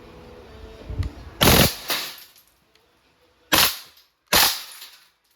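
A Crosman AK1 airgun fires in full auto, giving four sharp, snappy bursts of rapid shots separated by quiet gaps, close and loud.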